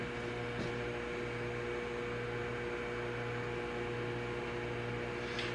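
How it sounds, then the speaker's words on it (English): A steady mechanical hum with a low electrical drone runs unbroken throughout from a microwave oven heating a bottle, with no voices. "Now I'll heat it in the microwave"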